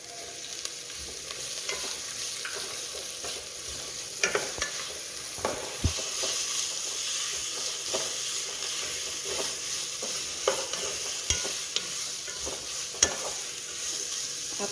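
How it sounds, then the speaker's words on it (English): Ginger garlic paste fries with shallots in a pan for brinjal gravy, giving a steady, close sizzle. Occasional stirring scrapes and taps sound over it, and no one speaks. "After adding shallots, now we are going to add ginger garlic paste."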